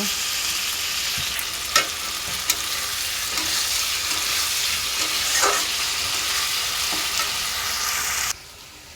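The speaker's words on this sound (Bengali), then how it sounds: "তিনগুণা হয়ে গেছে সবজি জাল দিব বাবুর জন্য" Vegetables for a baby frying and sizzling steadily in a pan, with occasional stirring clinks and scrapes, close and continuous before cutting off near the end.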